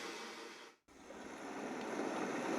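A Sound+Sleep sleep sound machine plays its brook soundscape as a steady broadband rush of flowing water. It drops out briefly near the start, then resumes and grows slightly louder.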